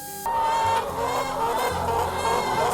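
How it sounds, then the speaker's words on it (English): Hens in an Amish chicken coop in Colorado's San Luis Valley cluck and squawk in a busy, continuous chorus, fairly close and loud after a brief quieter opening. "And then there's the chicken coop. Plenty of hens providing healthy food for the community and beyond."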